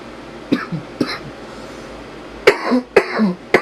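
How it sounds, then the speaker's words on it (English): Several harsh coughs ring out close by, two spaced apart, then a pause, then two more in quick succession. "Yeah, I got a cough."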